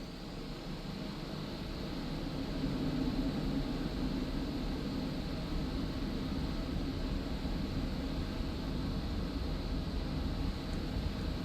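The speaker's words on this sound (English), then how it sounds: "so let's go for a takeoff" A MiG-29A jet in the DCS World flight simulator spools up for takeoff, a steady, loud engine roar that swells after the first couple of seconds and then holds level, with no talking.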